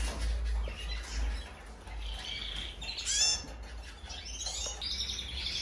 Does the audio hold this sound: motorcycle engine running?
no